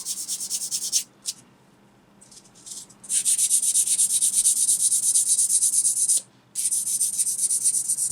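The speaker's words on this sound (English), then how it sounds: "That is that piece sanded and ready" Fine-grade sandpaper rubs a small part from an ICM early Model T ambulance plastic kit, a close, steady high-pitched scratching in long strokes with two brief pauses.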